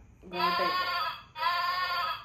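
Two electronic goat bleats in a row from a children's toy, each a long buzzy tone, clear and close with a brief gap between them.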